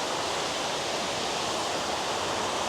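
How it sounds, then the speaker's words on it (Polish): Water pours from an artificial waterfall in Alicante in a constant, even rush, heard up close, steady and loud with no voices. "Jeszcze ostatni rzut oka na wodospad."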